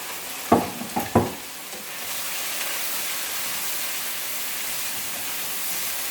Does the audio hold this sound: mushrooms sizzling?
yes